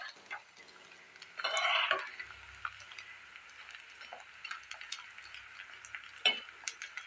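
Leftover-rice kurkure frying in hot oil and being stirred, a soft sizzle with scattered ticks and clinks of the spoon and a brief louder burst of bubbling near the start.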